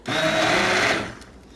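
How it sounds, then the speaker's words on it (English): Immersion stick blender whirring down in a pot of soup, a loud steady motorized whine for about a second before spinning down and fading. "So with the immersion blender, it's just a tiny little blender right here, or it might be called a stick blender"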